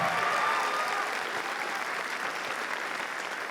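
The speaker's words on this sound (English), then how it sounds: "Can I please get a round of applause for my staff?" A large convention audience at the FWA 2024 opening ceremonies applauds their host's staff, a dense, steady wash of clapping from many hands that holds loud and even for several seconds with no pause.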